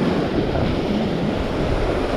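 Steady wind buffets the microphone over continuous rushing ocean surf at a shore fishing spot in Okinawa, a dense, unbroken roar with no voices.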